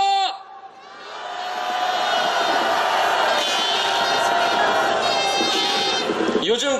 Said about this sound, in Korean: 윤석열 정권에 대한 분노를 담아 함성 외쳐보겠습니다